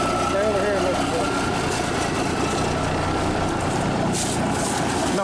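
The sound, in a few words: Cummins 350 Big Cam diesel engine running, turbo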